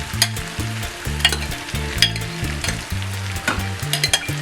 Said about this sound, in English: So what I do next is that I then add my mushroom to it.